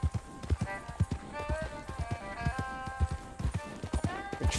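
Hooves clop in a quick, steady rhythm as a horse runs in Red Dead Online, with a faint tonal hum underneath.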